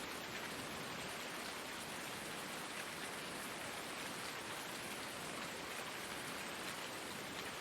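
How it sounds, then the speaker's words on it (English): Rain falling outdoors, with a soft, steady hiss of drops that stays faint and even throughout, with no voices. "Raining, like right now"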